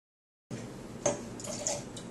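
Chateauneuf du Pape red wine is poured into a glass in a steady, gurgling trickle that starts abruptly and runs for under two seconds, with a couple of small splashes.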